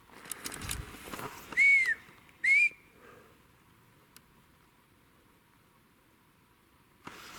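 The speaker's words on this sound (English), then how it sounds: "I'm on Bigfoot perches and I'm getting whistles." Two short rising-falling whistles, about a second apart, sound clearly in a quiet outdoor setting, followed by faint ambience and a soft knock near the end.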